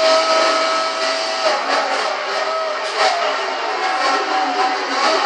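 A race car in Forza Horizon runs flat out near 300 km/h, producing a loud sustained high-pitched engine whine with steady tonal drone and small fluctuations, continuous and close throughout.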